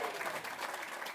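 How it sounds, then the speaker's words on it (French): Audience at an evening youth congress gathering claps for a group, a brief, soft, even burst of applause heard from some distance. "We want to give a big hand to this group"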